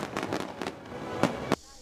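Fireworks bursting at a summer fireworks festival, with tens of thousands of shells planned over about half an hour: a rapid run of sharp cracks and pops under crowd murmur, then two louder isolated bangs near the end.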